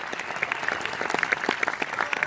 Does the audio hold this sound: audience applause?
yes